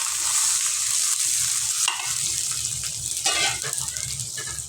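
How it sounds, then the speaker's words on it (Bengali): Water poured into fried onions in a wok, with a loud bright sizzle and hiss, brief bursts of steam and stirring scrapes, close and continuous. "পেঁয়াজগুলোকে ভালোভাবে ভেজে নেওয়ার পর তাতে একটু পানি দিয়ে দেব, যাতে মশলা কড়াই লেগে না যায়।"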